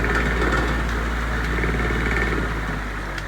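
A 30-inch Airmaster pedestal fan with a loose oscillator winds down after power off, giving a loud, close, steady whooshing whir over a low motor hum that eases slightly toward the end, with no talk.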